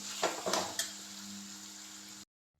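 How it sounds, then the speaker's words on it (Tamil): Chicken with ginger garlic paste sautéing in a pan for a Tamil chicken curry, a quiet steady sizzle with a few brief scrapes or clinks near the start, then the sound cuts off abruptly. "இஞ்சி பூண்டு பேஸ்ட்டு பச்சை வாசனை வரைக்கும் வந்து வதக்கிடுவோம்"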